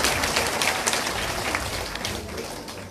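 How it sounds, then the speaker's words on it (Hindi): An audience at a Bhagavat katha religious gathering in Noida claps steadily for a few seconds, a dense, even wash of applause with no voices. "एक बार अपने लिए भी जोर जोर से ताली बजाएं"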